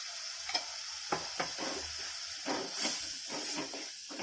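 Steady sizzling of coriander and turmeric powder sautéing in a hot pan for lentil-ball curry, with occasional spoon scrapes and stirring clatters, continuous and close, no voices.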